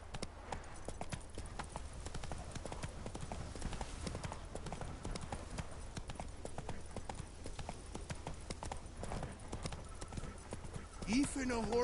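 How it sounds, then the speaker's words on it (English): A horse gallops in The Witcher 3, with rapid clip-clop hooves in a steady rhythm throughout and a brief whinny near the end. "Even a horse drops if you ride it at a constant gallop."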